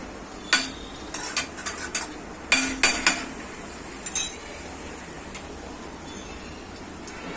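Cabbage Manchurian with soy and tomato sauce being stir-fried in a pan over high heat, heard as a faint background sizzle under a series of sharp spoon scrapes and clinks against the pan, mostly in the first half.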